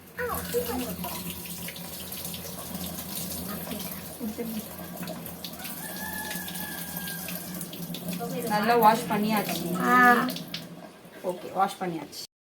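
Tap water runs steadily into a sink while small spinach greens (siru pasalai keerai) are washed in a home kitchen, a continuous hiss and splash throughout, with people talking over it toward the end.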